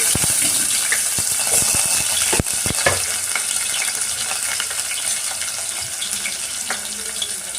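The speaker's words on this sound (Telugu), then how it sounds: "రెండు మిర్చి ఉల్లిపాయలు వేసుకున్నాము" Onions, green chillies and seeds fry in hot oil for a green peas tomato curry, a loud continuous sizzle broken by sharp clacks and scrapes of a spoon stirring the pan close by.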